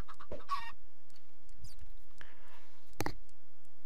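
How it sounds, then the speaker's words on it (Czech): Chickens in Minecraft give a few brief, scattered clucks and squawks at moderate volume amid quiet gaps, with no one speaking. "Slepičky!"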